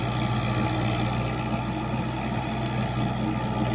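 A Fiat 640 tractor engine runs steadily under load while pulling a 48-cutter rotavator through a field, a constant low diesel drone with no pauses and no voices.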